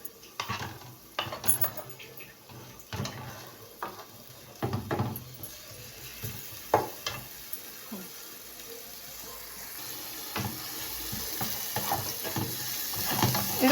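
Onions fry in oil on a gas stove, a moderate crackling sizzle that gradually thickens and grows louder. Sharp clatters of stirring and utensils against the pan come at irregular intervals over the first half.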